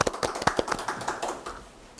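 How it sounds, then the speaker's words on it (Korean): Scattered audience applause at a lecture and discussion event: a few sharp, separate claps in an uneven rhythm that thin out and fade over two seconds. "다시 한번 박수로 한번 부탁드리겠습니다."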